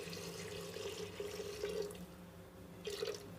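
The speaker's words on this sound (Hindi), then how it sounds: "अब हम इसमें पानी शामिल करेंगे" Water pours from a tap or jug into browned mutton in a pressure cooker, a soft steady splashing trickle close by with a brief louder surge near the end.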